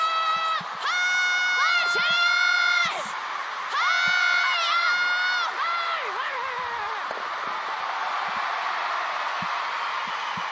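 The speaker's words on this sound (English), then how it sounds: "a big roar there from the local crowd" A local crowd roars and whoops at a China versus Korea women's curling match, loud bursts of high shrieking cheers rising twice then settling into a sustained noisy buzz, with some voices talking.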